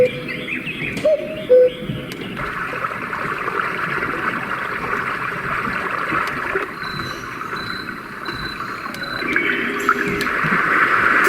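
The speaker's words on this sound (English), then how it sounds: "Sounds like we have some wind and birds." Birdsong and a steady wind-like hiss from a white noise machine's nature setting, several chirps and tweets scattered over a continuous airy rush that swells toward the end, with no talking.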